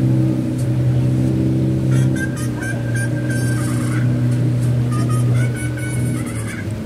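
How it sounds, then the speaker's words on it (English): A steady low boat engine drone runs throughout, loud and close, with faint higher chirps and squeaks rising over it now and then, on a boat ride around Walt Disney World resorts. "the gators are afraid of the noise of the boat"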